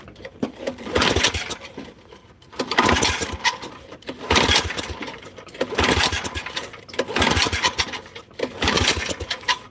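A small engine with no primer bulb is pull-started again and again in a backyard, giving a loud run of repeated rope-pull bursts in an even rhythm with short pauses between them.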